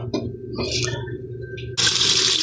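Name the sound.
water running while washing beef ear for sisig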